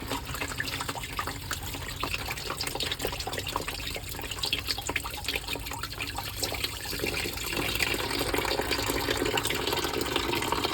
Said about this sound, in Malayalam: നോസ് വെച്ച് അടിച്ച് ക്ലീൻ ചെയ്യണം